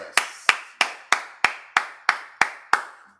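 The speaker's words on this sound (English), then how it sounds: "Give God a hand clap of praise this morning, wherever you are this morning." Nine sharp, evenly spaced hand claps ring out in a steady rhythm, each crisp and close, from a church congregation clapping in praise during morning prayer, with no talking over them.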